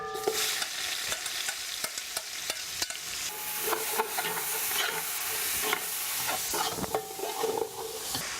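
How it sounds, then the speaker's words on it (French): Onions for a Creole cassoulet stirred and deglazed in a pot, a bright sizzling hiss broken by repeated scraping strokes of a utensil, close and steady, no voices. "On va justement le récupérer avec les oignons. On va faire un déglaçage."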